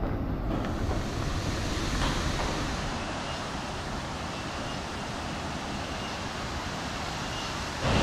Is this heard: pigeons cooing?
no